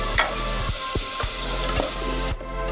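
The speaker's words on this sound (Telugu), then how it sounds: "నూనె వేడెక్కిన తర్వాత మనం క్లీన్ చేసుకున్న పచ్చిరేల్ని నూనెలో వేసేద్దాం." Cleaned raw prawns sizzle in hot oil, a dense steady frying crackle with a few sharper pops and clinks of stirring close by.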